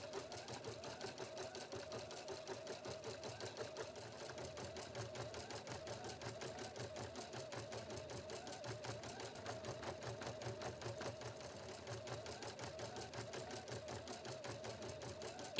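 A Husqvarna Viking Platinum Plus sewing machine runs steadily while embroidering, a fast, even mechanical stitching rattle that continues unbroken and fairly quiet throughout.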